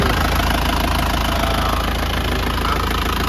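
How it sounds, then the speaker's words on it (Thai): A 1995 Isuzu TFR pickup engine idles steadily and fairly loud for the whole stretch, a constant low rumble with a light knocking texture and no talk over it. "สตาร์ทฟังเสียงให้นะครับ"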